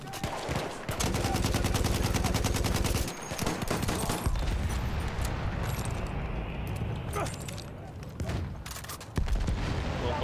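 Battlefield 1 multiplayer on Monte Grappa: loud rapid machine-gun bursts and gunshots fill the scene, with a heavy grenade blast and further fire from a nearby firefight, under someone talking.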